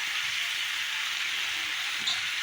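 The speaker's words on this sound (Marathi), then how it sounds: "त्याच्यामुळं आता डायरेक्ट आपण कढईमध्ये टाकून दिलेला आहे आणि तो आता आपण परतून घेऊ" Chopped spinach sautés in oil in a kadhai, giving a steady, even frying hiss that holds close and constant throughout.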